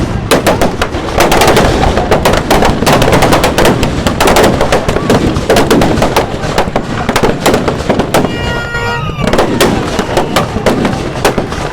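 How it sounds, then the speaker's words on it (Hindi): Dense, continuous crackling and popping of fireworks at a fair as an effigy burns, loud and close, rapid bursts overlapping without pause, with a whistling rocket briefly rising through the din. "किस प्रकार से आतिशबाजी के साथ मेघनाथ के पुतले का दहन हुआ"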